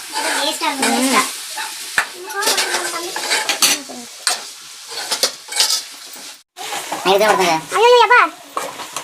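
Thick Tamil-style dry gravy fry stirred in a pan, with repeated scraping and clattering of a utensil against the metal over a soft sizzle, while people talk throughout.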